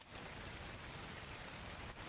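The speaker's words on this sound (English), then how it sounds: "Also, there is rain, that's why the game might be looking a little bit dark." Steady rain falls across the Scorched Earth desert map in ARK: Survival Evolved, a dense, even hiss of drops with no voices, holding constant from start to finish.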